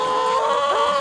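Close, loud clucking and squawking from chickens gathered at a large mobile chicken coop, a dense, continuous burst of calls with no talk over it.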